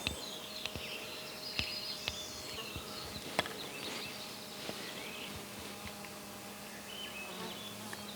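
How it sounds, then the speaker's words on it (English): A hoverfly buzzes like a bee on a clear morning in the mountains at Elk Flats, a soft steady drone with insect hum drifting nearby among faint outdoor ambience and scattered light clicks. "I don't know if you can see that hover fly in there. Sounds like a bee."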